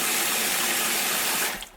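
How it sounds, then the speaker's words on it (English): Warm water gushes steadily into a bowl being prepared for dyeing Aida fabric, a continuous loud hiss and splash that tapers off at the end. "So, put some water in the bottom."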